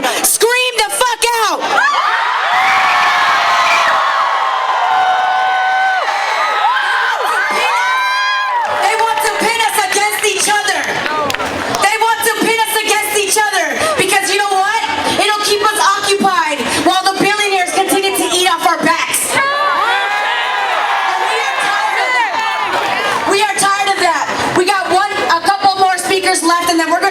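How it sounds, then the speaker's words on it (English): A large rally crowd in San Francisco, gathered to shut down ICE and support a general strike, screams, whoops and cheers loudly and continuously, with many overlapping voices shouting together. "I want to hear you stand up and scream the fuck out."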